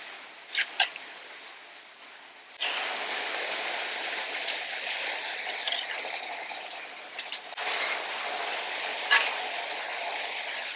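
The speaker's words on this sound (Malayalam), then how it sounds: "ഈ ചിക്കൻ നമ്മുടെ മസാലക്കകത്തേക്ക് നല്ല രീതിയിൽ നമ്മൾ ഇളക്കി മിക്സ് ചെയ്യാൻ പോവാണ്" Ten kilos of chicken stirred into masala for a Thalassery dum biryani, a wet, squelching churn that comes in two long stretches with a short break, plus a few sharp scrapes.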